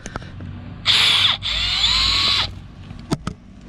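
A power drill with torque control bores into the ground, two loud close bursts of whining motor, a brief spin-up and then a longer grinding run, followed by a couple of sharp clicks.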